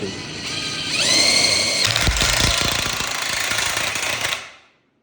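A DeWalt DCF961 cordless impact wrench spins up with a rising whine, then hammers in a rapid, loud rattling burst for about two and a half seconds before cutting off abruptly into silence.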